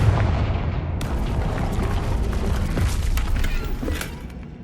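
The Confringo blasting spell explodes in the Hogwarts Legacy video game, a loud, deep rumbling boom that rolls on for several seconds with crackling debris before fading.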